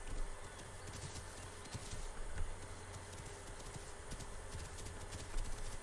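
Horse hooves clip-clopping in the dinosaur survival game The Isle Evrima, a steady patter of soft hoofbeats over a dense, noisy outdoor ambience with faint insect-like hiss throughout.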